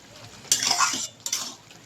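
Mustard paste being stirred into vegetables in a pan for a prawn and Malabar spinach dish, two bursts of metal spoon scraping and clinking against the pan over a soft sizzle.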